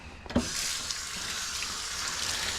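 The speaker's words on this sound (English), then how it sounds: "I need to wash these gloves, obviously. I'm just going to wash them with my hands here initially" Tap water runs steadily over gloved hands being washed at a sink after shucking oysters, a close, continuous splashing hiss that follows a brief knock at the start.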